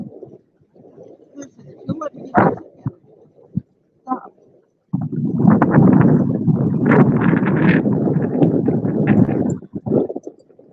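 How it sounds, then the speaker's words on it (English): Outdoors on a fishing boat during March catfishing, wind gusts buffet the microphone in heavy, low rumbling bursts. The longest and loudest gust lasts several seconds, with brief quieter stretches before and after it. "Worry about the wind, people."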